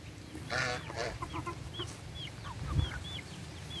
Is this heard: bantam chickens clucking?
yes